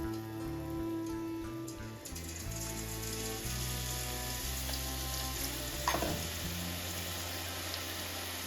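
Boondi batter for motichoor laddu fries in hot oil with a steady, dense crackling sizzle, fairly soft and continuous, with one brief scrape near the end and no voices.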